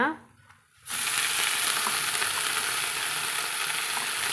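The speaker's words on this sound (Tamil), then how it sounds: "இப்போ அந்த கீரை வந்து நம்ம சேர்த்து வதக்கலாங்க" Manathakkali greens hit a hot pan after a brief quiet moment, then sizzle steadily and evenly, close and continuous with no talk.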